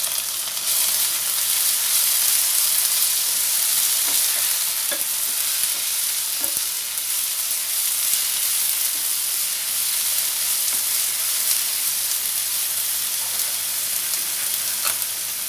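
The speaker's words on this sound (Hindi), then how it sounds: "प्याज फ्राई हो गया, अब इसमें हम अदरक, हरी मिर्च और लहसुन का पेस्ट डाल देते हैं।" Onion frying in a pan with ginger, green chili and garlic paste added, a steady loud sizzle with occasional stirring clicks, for chana dal tadka.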